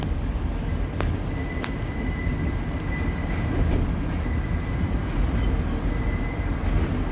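A monorail train rolls along its track at a zoo with a steady loud rumble, a couple of sharp clicks and a faint high whine running through.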